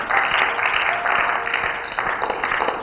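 An audience clapping their hands, a dense, continuous patter of many claps that swells and eases in waves, close and fairly loud.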